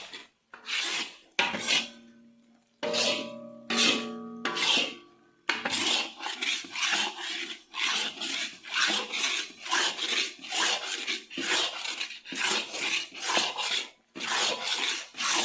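Wheat flour roasted in desi ghee in a pan for Punjabi pinniyan is stirred and scraped with a utensil, giving repeated rasping strokes in a steady rhythm, close and moderately loud, with no talk.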